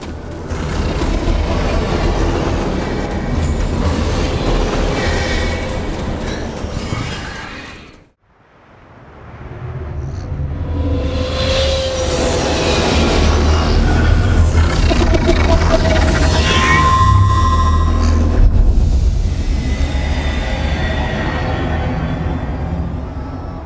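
Maliwan dropships from Borderlands 3 roar past in a dense, loud mechanical rumble with whining and clanking layers, briefly dropping out near the middle before surging back with sustained engine drone and metallic rattles.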